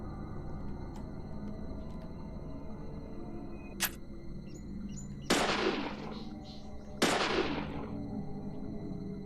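Two sharp gunshots in the video game Deadly Premonition, a couple of seconds apart, each a crisp crack with a short decaying tail over a quiet ambient hum, preceded by a fainter click.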